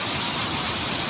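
Steady, loud broadband roar of the Dangari waterfall in Jashpur, Chhattisgarh, rushing without pause and with no voices over it.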